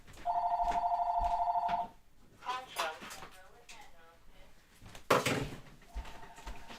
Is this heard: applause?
no